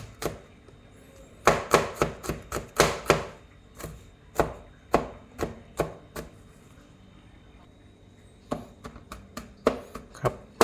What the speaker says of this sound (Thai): เวลาหั่นเราก็สับให้ละเอียดนะครับกระเทียม